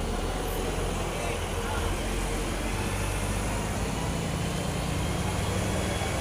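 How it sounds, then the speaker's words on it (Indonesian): Gumarang Jaya buses departing at Bukit Surungan bus terminal, a dense, loud, unbroken roar of engines and traffic noise filling the whole stretch. "terlihat aktivitas keberangkatan bus Gumarang Jaya dengan kelas Maung Jua"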